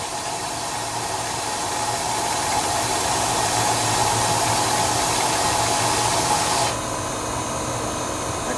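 Compressed air hisses steadily into the gas tank of a Craftsman riding lawnmower with a 24 HP Briggs engine, gas spitting back out; a loud continuous broadband rush that drops slightly near the end.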